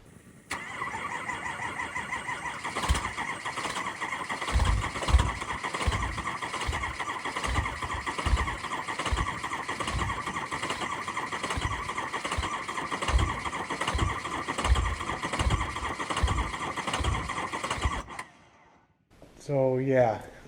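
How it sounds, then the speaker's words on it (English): A 6.0 Powerstroke diesel cranks on and on in the cold, a long rhythmic starter churn with repeated thumps, before catching briefly near the end. "as you can see, it doesn't start very well in the cold"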